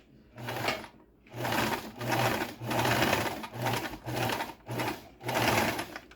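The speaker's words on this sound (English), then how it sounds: "So let's use the zigzag stitch." A Singer Prelude sewing machine sews a zigzag stitch in several short bursts of rapid mechanical chatter, close and fairly loud, separated by brief pauses.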